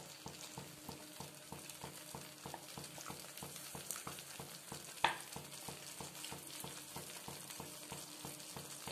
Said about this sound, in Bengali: হালকা নাড়াচাড়া করব, একটু ফুটে উঠবে সেই পর্যন্ত।